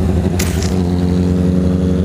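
A motorcycle rolls by during a group ride of about fifteen bikes on a mountain road, its engine a close, steady rumble with a brief rising burst near the start.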